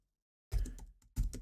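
Two short bursts of computer keyboard typing come close together after a moment of silence. They are crisp and close, like keys tapped while renaming a track in music software.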